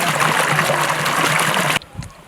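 Water flowing on a village farm in Kathiyawad once the power comes on, a steady close splashing gush from a pump outlet that cuts off abruptly near the end.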